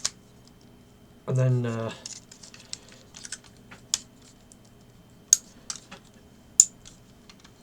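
Ratcheted plastic wing joints on a Matrix Monster MMS-01 Firey Dragon transforming toy click in small, sharp, scattered ticks close up, with a brief spoken phrase near the start.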